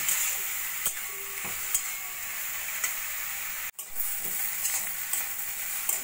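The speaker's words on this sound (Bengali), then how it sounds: "এইভাবে নাড়া দিয়ে আমি গাজরটাকে ভালো করে ভাজা ভাজা করে নেব" Grated carrot sizzles in a pan for carrot halwa, a continuous frying hiss broken by repeated light ticks and scrapes of a spatula stirring, with one brief dropout midway.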